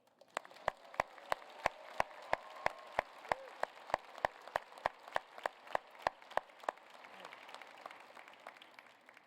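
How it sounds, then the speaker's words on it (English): Audience applause at the Smith School of Business 2018 winter commencement: sharp, evenly spaced claps from someone close by ring out over a softer, continuous patter of crowd clapping for roughly nine seconds. "And now, let us applaud."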